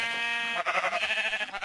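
Sheep bleating in the Minecraft video game, a steady, fairly loud tonal call that runs alone for the whole short stretch with no talk over it.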